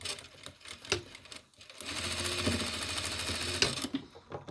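A sewing machine stitches a seam on a toiletry bag in bursts of rapid needle chatter, with a short pause and then a long continuous run, close by and moderately loud, with handling clicks around it.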